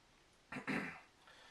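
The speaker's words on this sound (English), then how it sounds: "I was trying to clear my throat" A man clears his throat in two quick, close rasping bursts, the second louder and longer, followed by quiet.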